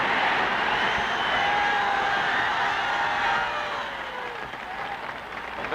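A golf gallery applauds and cheers after a winning 120-yard wedge shot holed at a championship, a dense sustained roar of clapping and shouting that eases slightly toward the end.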